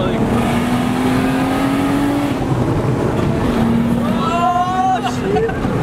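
A single-turbo Nissan R32 GTR engine accelerates hard from inside the car, its rising whine climbing through the gears with a brief shift dip. The sound is loud and close, with voices talking over it.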